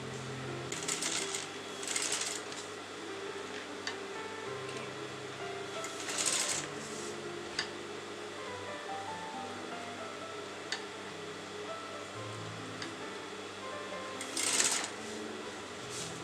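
Sewing machine stitching kurta fabric in short bursts of rapid mechanical whirring, separated by quiet pauses with faint handling noises.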